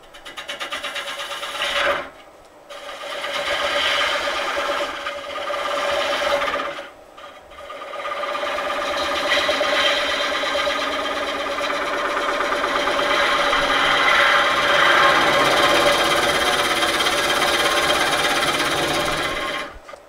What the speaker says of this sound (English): So come across with a gouge first, make it flat.